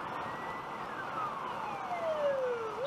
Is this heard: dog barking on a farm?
no